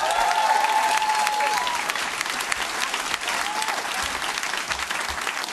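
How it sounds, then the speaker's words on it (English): Comedy club crowd at an anniversary stand-up show greets a comedian with loud, sustained applause, dense clapping that stays full and even, with a brief whistle near the start. "Thank you very much indeed for that round of applause there"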